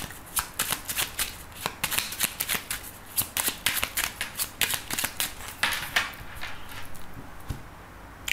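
Oracle cards shuffled for a divination reading, a quick run of crisp riffling bursts in steady rhythm, close and alone with no talk.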